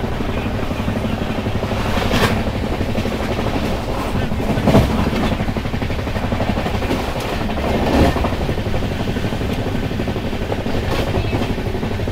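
Constant loud rumble and rattle of a superfast train running around 130 km/h, wheels and carriage noise droning throughout with occasional louder clacks; no talking.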